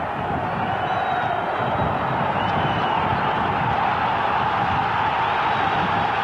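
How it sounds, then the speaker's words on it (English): A football crowd roars at Roker Park during a Sunderland versus Chelsea match, a steady distant wash of massed voices with no individual words, muffled and constant throughout. "The crowd is roaring at Roker."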